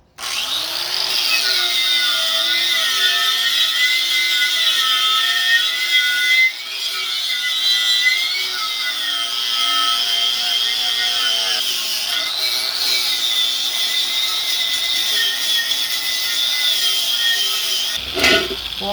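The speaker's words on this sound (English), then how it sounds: "Where's my grinder?" An electric grinder cleaning up the wheel of an abandoned 1971 Dodge D100 truck, with a loud continuous whine that wavers in pitch as it bears on the metal, dipping briefly midway and running alone until it stops near the end.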